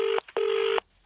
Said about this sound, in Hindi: फिर से फोन कट रहा है, शायद सिग्नल का कोई प्रॉब्लम है